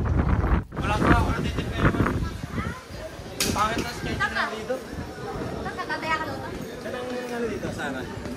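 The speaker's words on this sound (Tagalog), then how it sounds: "Medyo malakas yung hangin ngayon" Strong wind buffets the microphone with low rumbling gusts while a person talks over it outdoors in Mahon, Menorca.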